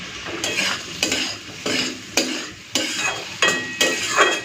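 Vegetables frying in a pan for a simple home dinner, with rhythmic spatula scrapes and stirring strokes about every half second over a steady sizzle.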